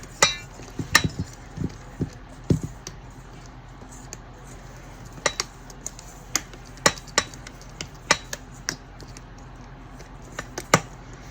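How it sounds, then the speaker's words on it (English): A whisk stirs granulated sugar into a mixture in a bowl while making blackberry butter swim biscuits. Faint, irregular metallic clinks and taps sound against a quiet background. "I'm going to whisk this together"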